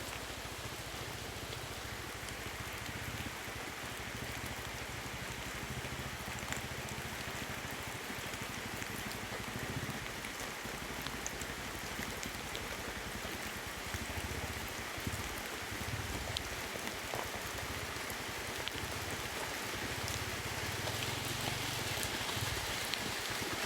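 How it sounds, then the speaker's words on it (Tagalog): Heavy rain falling steadily outdoors, a dense unbroken hiss of drops drumming on surfaces with occasional louder patters and a low rumble beneath, sustained and fairly close throughout. "Lumakas na naman yung ulan tol."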